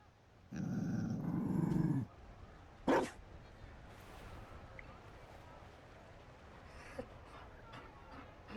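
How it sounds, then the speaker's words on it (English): A Mabari war dog in the video game Dragon Age: Inquisition growls loudly and steadily for about a second and a half, then gives a short sharp bark, followed by quieter game ambience. "You found a dog."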